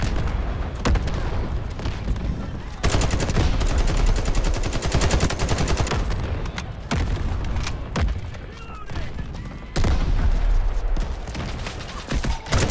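Heavy gunfire in the shooter Delta Force: dense automatic bursts and booming shots, loud and close, in long volleys broken by brief gaps.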